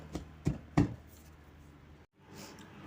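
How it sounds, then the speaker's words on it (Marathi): Sesame seeds wrapped in cloth pounded with a stone, three dull thuds in quick succession near the start, then quiet shuffling and a brief silence. "तर या दगडाच्या साहाय्याने त्यांना मी कुटून घेते."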